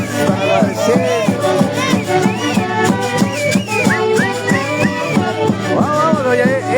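A live audience claps along in a steady beat to huayno music, with melody and percussion filling the mix and the crowd's hands rhythmic and prominent throughout.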